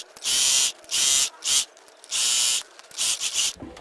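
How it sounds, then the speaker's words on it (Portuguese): Domestic sewing machine stitching a trouser crotch seam, a close, loud mechanical whirring in five even bursts separated by short pauses, with no talking. "E nós vamos para a máquina fazer uma costura."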